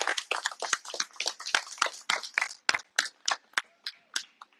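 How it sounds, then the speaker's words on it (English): A small crowd at a long snapping football competition claps in scattered, uneven bursts that thin out toward the end, fairly close and modest in volume with no talk over it. "How about a round of applause, family,"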